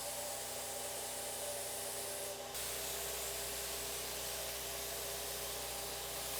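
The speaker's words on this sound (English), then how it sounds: "And right now you have it on the vertical spray pattern." Paint spray gun set to a vertical spray pattern hisses in a steady, loud, broadband rush, with a slight change in tone partway through and no speech.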